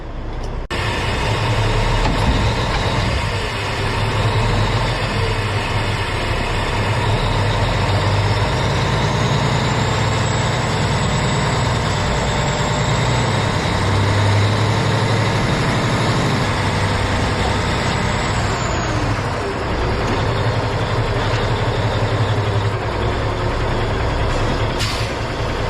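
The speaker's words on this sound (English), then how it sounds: "now we're gonna drive the truck forward, come around, hook up to that" A truck engine idles with a deep, steady diesel rumble, then pulls forward. The drone stays loud and close throughout, with a faint whine rising and falling partway through.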